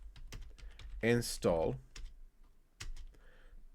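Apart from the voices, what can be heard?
typing a terminal command on a computer keyboard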